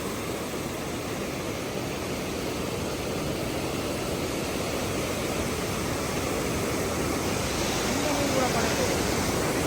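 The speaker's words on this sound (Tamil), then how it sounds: "தண்ணி எவ்வளோ ஸ்பீடாக அடிக்கிறது" Fast-flowing water rushes loudly and steadily through a pond, a dense constant roar that swells slightly toward the end, with no clear talk over it.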